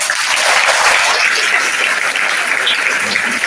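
Sustained applause from a big crowd of students at a school gift-giving ceremony in DJ Halli, many hands clapping at once in an even, unbroken roar.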